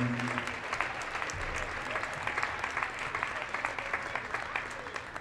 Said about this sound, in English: let's show our congratulations and applause for these folks